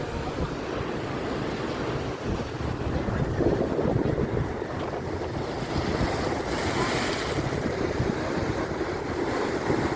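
Sea waves roll in at Snehatheeram beach as a continuous, fairly soft surf roar, with steady wind buffeting the microphone and no voices.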